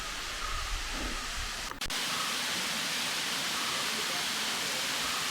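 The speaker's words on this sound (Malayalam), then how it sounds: "ഇതാണ് നമ്മുടെ മർമല വാട്ടർഫോൾസ്" Marmala waterfall in Vagamon, a broad, steady roar of falling water filling the scene from start to end, with a brief knock partway through and no clear talking.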